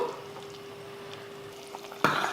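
Chicken being stirred with a ground coconut, ginger and garlic paste in a pan for tandoori chicken fry: a quiet, soft scraping and stirring, then a sudden sharper clatter and sizzle near the end.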